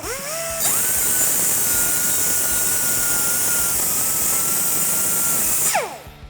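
A power saw whines loudly and continuously as it cuts the factory axle-back off a 2015-2019 Challenger 3.6L exhaust pipe, a high grinding screech that winds up at the start and spins down at the end.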